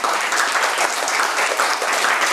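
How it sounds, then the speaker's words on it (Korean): Dense, even applause of thanks fills a church congregation, steady and close throughout the short burst with no talking over it. "감사의 박수로 할렐루야"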